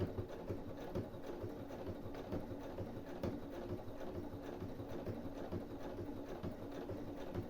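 A domestic sewing machine runs a steady straight stitch on garment fabric, its needle chattering in a fast, even rhythm that stays constant and fairly quiet throughout, with no talking over it.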